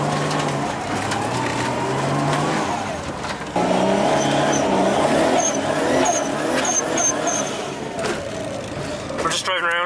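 A car drives around on a frozen, melting lake in Sweden, its engine a steady hum with a shift in pitch partway through, heard from inside the cabin while people talk over it.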